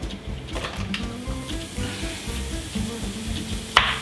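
Chopped vegan frittata ingredients, onions among them, sizzle in a frying pan with a close, steady crackle and a sharp clack near the end.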